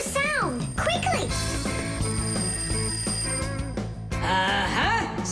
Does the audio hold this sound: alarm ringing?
yes